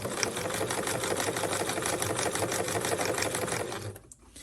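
Sewing machine stitching a beginner's tote bag, a fast, even mechanical chatter running steadily and up close, then stopping abruptly near the end.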